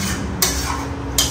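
Meat is stirred and sautéed with yogurt in a pan: a soft continuous sizzle with two sharp utensil scrapes against the pan.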